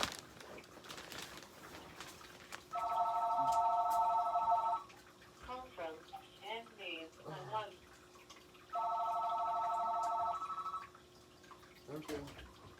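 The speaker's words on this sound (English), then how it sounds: "Pardon for the phone call. We just got a new phone" A newly installed telephone rings in two long electronic bursts, with a person talking between the rings.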